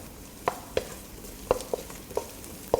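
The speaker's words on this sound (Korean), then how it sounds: "오늘 작업 중에서 마늘 볶는 시간이 제일 오래 걸린다고 생각하시면 됩니다." Garlic stir-frying over low heat in a pan for a seafood nurungji-tang, with a steady soft sizzle and sharp, irregular scraping taps of a utensil stirring, close and without talk.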